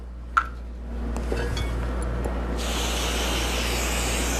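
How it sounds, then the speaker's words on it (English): Cooking spray misted onto an antique baking dish: a click, then a steady hiss from the can that starts partway through and continues to the end. "I'm just gonna give it a spray."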